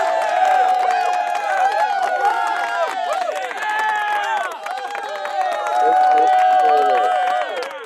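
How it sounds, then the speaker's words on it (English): A large crowd cheers and applauds loudly and continuously, with whistles and shouts over a dense roar that swells in waves. "And the crowd goes wild."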